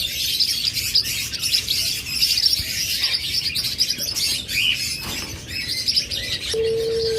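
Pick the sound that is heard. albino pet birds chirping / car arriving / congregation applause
albino pet birds chirping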